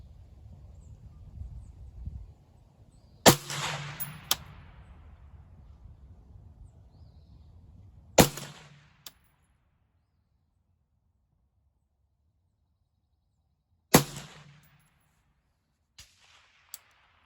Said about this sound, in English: Fire the first round off in the dirt. Because, first round through a suppressor